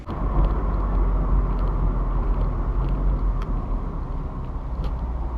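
A car driving on a sunny day, captured from the cabin by a MIOFIVE S1 Ultra dashcam: a steady low road and engine rumble with broadband tire noise, continuous and fairly close, with no talking.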